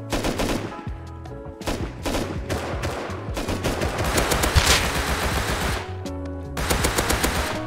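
Gunfire in the video game Rust, with rapid automatic bursts and repeated shots close and loud throughout, separated by a few short pauses.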